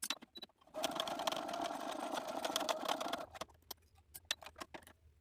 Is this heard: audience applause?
no